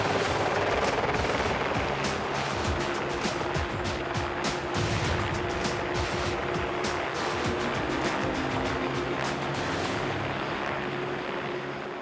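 Helicopter rotor blades thump in a steady, loud roar beside melting ice cliffs during a mountain search and rescue in New Zealand's high country, with no voices.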